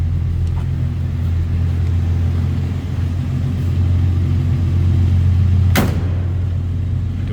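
The slant six engine of a 1963 AMC Rambler Classic 550 runs at a steady idle, a loud, even low rumble throughout with one brief sharp knock near the end and no voices.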